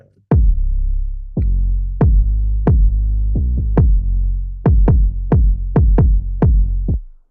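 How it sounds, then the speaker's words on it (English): Punchy kick drum hits in an R&B gospel mix land over a deep, sustained 808 bass, about a dozen thumps in an uneven groove, loud and close with no voices. "we can hear the punch of the kick coming through, not being stifled by the 808"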